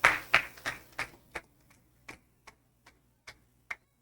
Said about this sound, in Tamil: கைத்தட்டி வரவேற்குங்களேன்.